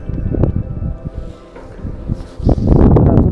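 Gusty, cold wind with light rain buffeting a microphone outdoors while fly fishing, rising and falling in bursts before a louder, sustained roar near the end.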